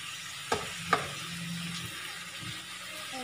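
Pork pieces sizzle steadily in a pan as they are stirred and flipped, with two sharp utensil scrapes near the start and a soft continuous fry underneath, no talking.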